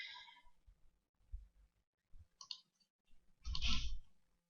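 A computer mouse clicks a few times, close and quiet, at a desk in a quiet room with faint breath sounds and no talking.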